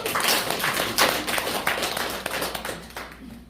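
A room full of people claps together in a fast, dense burst that carries on for several seconds before thinning out toward the end.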